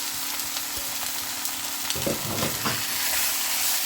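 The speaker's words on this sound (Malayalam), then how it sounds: "ഈ സമയത്ത് നമ്മുടെ 1 കിലോ ചിക്കൻ കഴുകി വൃത്തിയാക്കി വെച്ചതും കൂടെ ആഡ് ചെയ്ത് കൊടുക്കുക" About a kilo of cleaned chicken is added to masala in a pan for green chicken curry and sizzles steadily at close range, with stirring scrapes and clatter partway through and no talk.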